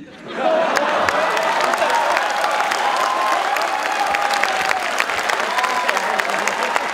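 Audience applause at an Independence Day event swells quickly and holds as sustained, dense clapping from a large crowd, with some voices mixed in.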